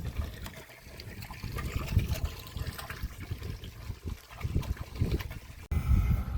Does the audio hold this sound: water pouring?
yes